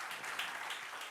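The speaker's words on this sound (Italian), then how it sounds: "Un applauso per Serena." A short, faint burst of audience applause at an Italian business panel discussion, steady dense clapping from a seated crowd with no voices over it.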